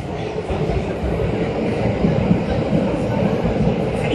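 Tokyo Metro subway train running on rails in a tunnel, a steady loud rumble and rail roar with faint rhythmic clatter and a few brief squeals, continuous throughout.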